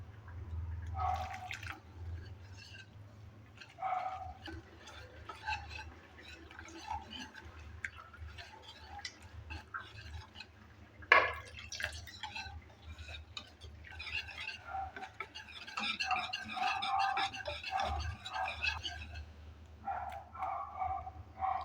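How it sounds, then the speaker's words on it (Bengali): Besan (gram flour) batter being stirred by hand as water is added bit by bit, giving soft wet splashes and repeated scraping strokes against the bowl, close up, with a low hum underneath. "এবার একটু একটু জল দিয়ে ব্যাটারটাকে রেডি করে নেব"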